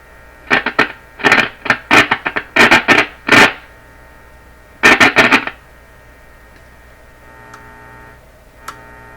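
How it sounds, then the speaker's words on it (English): A Crosley 12B radio, Canadian-made, turned to full volume near the high end of the dial, gives off loud bursts of crackling static in a choppy cluster, then settles into a quiet low hum. "I can hear some background static when it's tuned up the high end, the volume up full"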